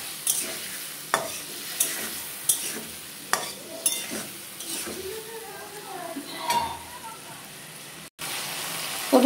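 A spice paste of ginger, dried chili, cumin, coriander, turmeric and salt is stirred and sautéed in a pan, with soft sizzling under repeated scraping strokes of a spoon against the pan and a few clinks of utensils.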